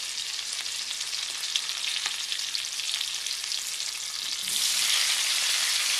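Halved Brussels sprouts sizzle cut side down in a hot frying pan, a steady close crackle that swells louder near the end, with no talking.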